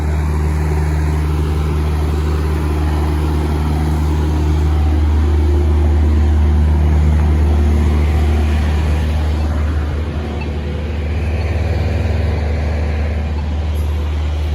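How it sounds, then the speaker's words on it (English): A truck rumbles loudly past at a railroad crossing, a heavy low engine drone building and swelling through the middle before easing off, steady and close with no talk over it. "Couldn't hear it over the truck"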